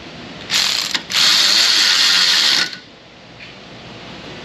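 Rapid ratchet clicking as a 10 mm bolt on a Honda CR-V with the 2.4 engine is loosened, two close bursts, a short one then a longer steady run of about a second and a half, loud and alone.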